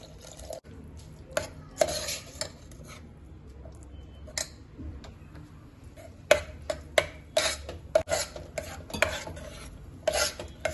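Carrot halwa cooked in ghee with dry fruits and milk being stirred in a pan, giving a run of scraping and sharp spoon-on-metal clicks that come in irregular bursts, close and fairly loud, with no talking.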